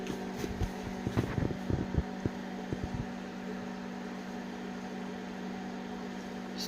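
A microwave oven running with a metal fork inside, a steady mechanical hum with a sustained low drone, marked by a cluster of sharp crackling pops over the first three seconds before settling into an even whir.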